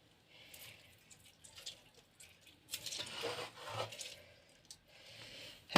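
Lemon juice squeezed by hand over a baking tray of tomatoes, celery, peppers and garlic for baked tilapia: soft, faint wet squishing and rubbing with a few drips, louder toward the end, no talk.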